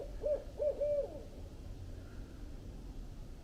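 A barred owl hoots in the wild in reply to a bird call, a short series of three or four mellow, rhythmic hoots early on, fairly distant, then fading into quiet outdoor ambience.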